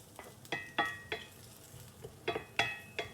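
Shallots frying in a pan as they start to brown and catch, with a soft sizzle under repeated sharp scrapes and clinks of stirring, about eight distinct strokes spread over a few seconds, close and alone.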